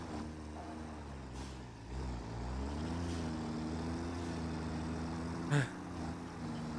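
Truck engine in the video game Satisfactory, a steady low droning hum with shifting pitch as it drives, plus a brief sharp clank near the end.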